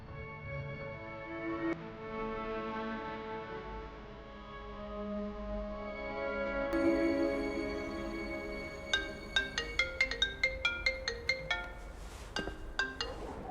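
A phone ringtone plays as a melodic electronic tune, building into a run of sharp repeated bright tones near the end, moderately loud indoors.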